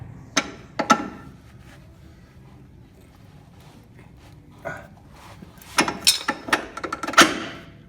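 Sharp metallic hammer strikes driving a bolt out of a Dodge Ram 4x4 control arm, a few isolated hits followed by a quicker cluster of blows, close and fairly loud.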